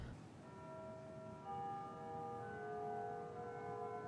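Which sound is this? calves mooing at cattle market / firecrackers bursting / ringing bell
ringing bell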